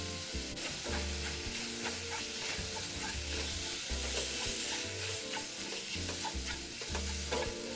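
Sauce stir-frying in a wok with oyster sauce, reducing until slightly thickened: constant loud sizzle with rhythmic scraping strokes of a spatula against the pan, close and without talk.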